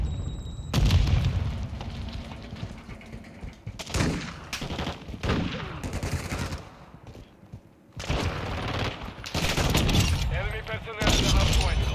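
A flash grenade goes off in Call of Duty Modern Warfare 2 multiplayer, with loud sharp bangs and bursts of gunfire in repeated clusters, with players talking over it.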